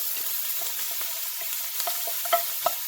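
Chinese eggplant, bittermelon and tiny bacon pieces stir-frying in a pan, a steady close sizzle broken by a few sharp scrapes and clacks of the spatula toward the end.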